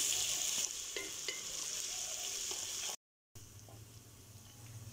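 Garlic ginger paste sizzles and crackles in a hot pan, with a few stirring scrapes, then a brief silence before quieter frying resumes.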